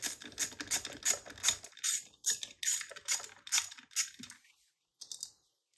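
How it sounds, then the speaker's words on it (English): Small metal nut on a Holmes Blizzard air circulator fan blade being turned off with a 10mm nut driver, giving quick repeated ticking and clicking bursts up close, then a few scattered lighter clicks with brief pauses, no talking. "Fan blade is easily removed with a 10mm nut, or a 10mm nut driver"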